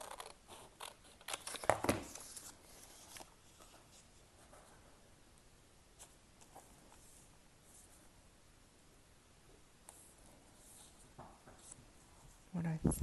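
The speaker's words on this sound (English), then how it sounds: "let me just fold it in half. I'll cut it again." Folded paper cut with scissors for a junk journal: a few crisp, scattered snips and paper rustles, the loudest near the start and end, with quiet room hush between.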